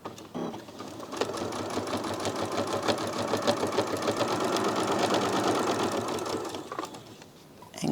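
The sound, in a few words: sewing machine stitching tape over quilt join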